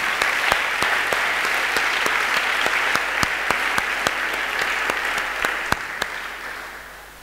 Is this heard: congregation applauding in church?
yes